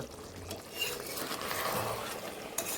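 Chicken gizzard and liver curry being stirred in a pot, with soft close scraping and a low bubbling sizzle, plus a small clink near the end.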